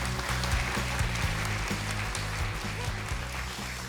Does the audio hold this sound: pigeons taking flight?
no